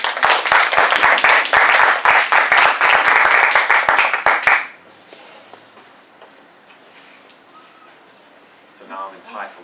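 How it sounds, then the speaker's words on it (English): A crowd at a meeting applauds with dense clapping for about four and a half seconds, then it stops abruptly, leaving faint room noise and a brief murmur. "Please give a round of applause for our role players."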